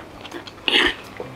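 Someone crunches on roasted spiced chickpeas at close range, one brief crisp bite with light chewing around it and no talk.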